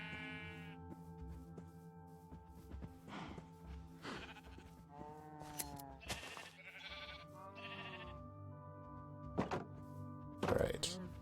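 Sheep, including a lamb, bleat repeatedly in the Minecraft video game over a farm pen, with a few soft thunks and someone talking quietly throughout.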